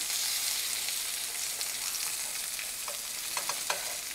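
Flour-coated pork chops fry in a hot pan with a steady, dense sizzle, and scattered sharper pops and crackles come through near the end. Nobody speaks.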